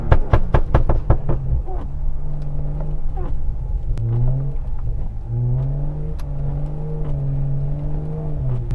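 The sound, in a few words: BMW 535i rear-wheel drive car driving in snow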